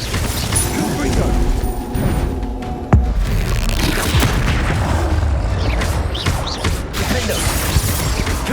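Confringo spell blasts in the Hogwarts Legacy video game, a dense run of booming explosions and crashes layered over continuous combat effects and score, with one sharp impact standing out near the middle.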